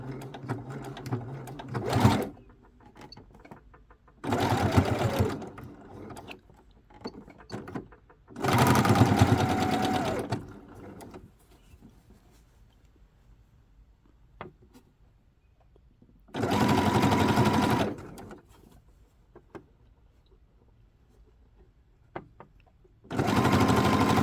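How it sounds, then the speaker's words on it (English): Sewing machine running a zigzag stitch during a beginner upcycling project, heard in five separate loud bursts of rapid rattling stitching, with quiet handling noises between. "I do this part on a zigzag."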